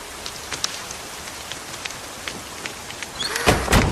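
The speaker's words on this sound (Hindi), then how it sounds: "ऐसे ही अचानक बारिश आ जाती है क्या?" Rain suddenly begins falling in an animated scene, with scattered drops ticking at first before a heavier, louder wash of rain builds near the end.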